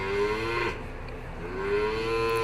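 Cows in a dairy herd moo nearby in long, drawn-out calls, one lowing at the start and another rising again near the end over a low background rumble.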